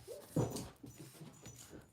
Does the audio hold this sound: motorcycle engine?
no